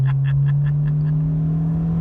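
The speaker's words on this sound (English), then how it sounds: "It sat there and spun the tires." A 1998 Mercedes-Benz C230 accelerates hard with its slick BF Goodrich rear tires spinning: a loud, steady rising engine drone with a rapid pulsing chatter at the start that fades after about a second.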